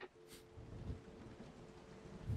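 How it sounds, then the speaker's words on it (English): Rain and rolling thunder outside in the Resident Evil 7 horror game, a faint low rumble and soft rain hiss under quiet ambience, with a brief bright burst near the start. "But it's raining outside."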